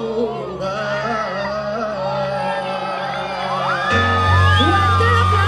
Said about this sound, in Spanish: ¡Una fuerte bulla para los chicos!